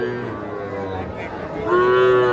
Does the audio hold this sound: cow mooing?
yes